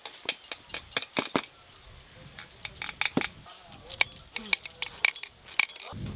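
A pot of chicken kachchi biryani is shaken, giving light metallic clinks and rattles in irregular bursts with quiet gaps, close by and fairly faint.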